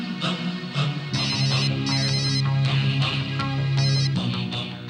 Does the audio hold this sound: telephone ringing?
yes